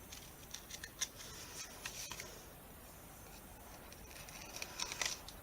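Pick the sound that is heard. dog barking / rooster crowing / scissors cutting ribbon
scissors cutting ribbon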